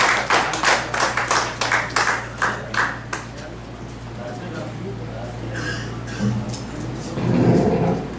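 An audience at a 2012 mushaira in Dammam claps in a burst of rhythmic, fairly loud applause that fades into scattered claps, then swells again near the end, with a voice speaking over part of it.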